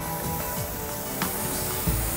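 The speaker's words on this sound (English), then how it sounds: "Spray. Stop. Spray." Spray paint can hissing in short bursts for street art on a city road surface, a steady near hiss with brief rises around a stop-and-start rhythm.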